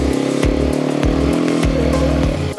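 A quad bike engine revs in repeated bursts during an attempted offroad wheelie in Spain, loud and close, each surge rising and dropping in a rough rhythmic buzz with no voices.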